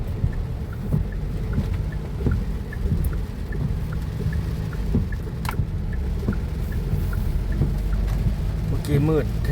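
Steady rain falls over open rice fields during a storm, with low rumbling and scattered sharp drips and taps throughout, and a brief chirping call near the end.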